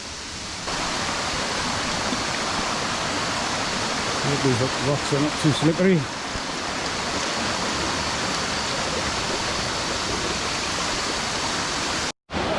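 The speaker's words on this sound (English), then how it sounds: "I can see a big waterfall in the distance" Large waterfall on Koh Chang, a steady broadband roar of falling water heard continuously from start to end, with someone speaking briefly over it partway through.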